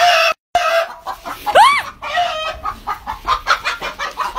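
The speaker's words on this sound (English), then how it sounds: "Look at that big rooster." A big rooster and chickens cluck loudly and close by, with one rising crow-like call and a steady run of rhythmic clucks in a coop before dawn.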